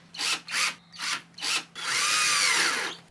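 A handheld power drill drives into craft furniture being assembled, four short whirring bursts in a row followed by one longer sustained run, close and loud with no talking.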